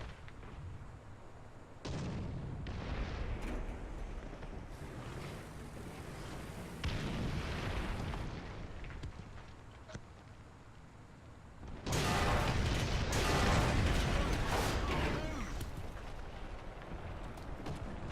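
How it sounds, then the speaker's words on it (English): Heavy artillery barrage explosions in a tank video game, a series of loud booming blasts and rumbling impacts building in waves, with a dense, sustained volley near the end. "the enemy is preparing for artillery barrage"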